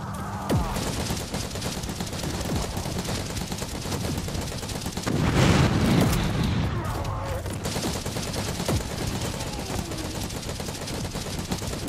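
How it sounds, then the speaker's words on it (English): Gunfire in Warhammer 40,000: Inquisitor - Martyr rattles as dense, continuous rapid volleys, with a heavier burst swelling midway, loud and close throughout. "Cleansing shots fired."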